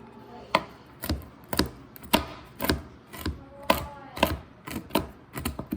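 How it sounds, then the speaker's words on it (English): Knife chopping nuts for homemade granola on a cutting board, a close series of about a dozen sharp, uneven taps, clear and alone with no talk. "other than trying to chop them up with a knife, but that's what I'm doing"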